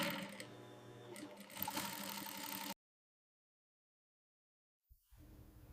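An industrial sewing machine stitching around the edge of a leather wallet, a close, rapid mechanical chatter that stops abruptly for a couple of seconds, then starts again.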